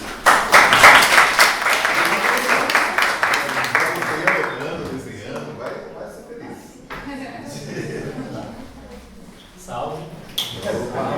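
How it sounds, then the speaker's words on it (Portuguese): A lecture audience welcomes the speaker Ciano with a round of applause that is loud and dense at first, then fades out over several seconds as talking and murmurs take over. "Então, com vocês, Ciano, uma salva de palmas."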